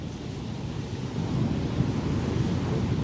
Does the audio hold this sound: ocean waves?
yes